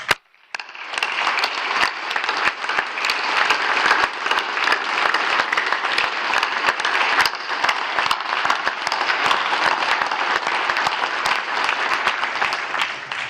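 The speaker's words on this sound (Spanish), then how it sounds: "y le aplaudimos" An audience at a Mexican Army Day ceremony bursts into sustained applause: a loud, dense wash of clapping that starts abruptly and holds steady for over twelve seconds, with no clear speech.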